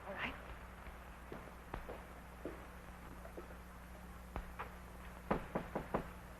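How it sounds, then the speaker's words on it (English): Knuckles rap on a door in a 1930s London film scene, with scattered single knocks and then a quick series of raps toward the end. The knocks sound fairly soft over a low background hum. "Can't you knock any louder than that?"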